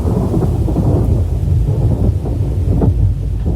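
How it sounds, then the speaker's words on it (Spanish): Thunder effect from a Spanish-language radio drama of Poltergeist (1982): a continuous low, heavy rumble with rolling swells and soft cracks, mixed with a rain-like hiss, loud and steady throughout with no voices. "Ominosamente el trueno murmuraba en su antiguo, gutural lenguaje."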